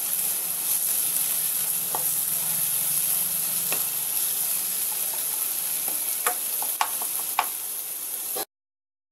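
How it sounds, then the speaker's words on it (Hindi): Tomatoes being stirred and mashed in a hot pan for a Maggi noodle dish with egg, a steady sizzle running throughout with scattered spoon taps and scrapes toward the end, no one talking. "अब मैं कवर को हटा रही हूँ और इसे अच्छी तरह से मैं चलाऊंगी"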